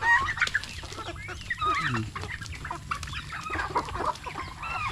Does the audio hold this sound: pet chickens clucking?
yes